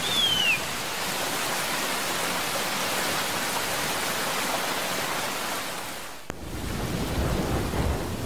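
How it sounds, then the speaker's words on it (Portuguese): Heavy rain falling in the Amazon rainforest, a dense steady hiss filling the scene at high volume, with a brief sharp crack near the end before the downpour continues. "As chuvas são perigosas para o filhote da arpia"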